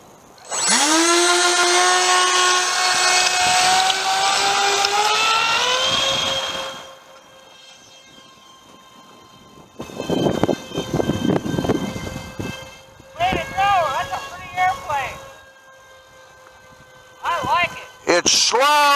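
A Dynam A-10 Warthog radio-controlled model airplane whines at full speed, a loud rising buzz for several seconds, then fades and returns in shorter passes, with voices talking.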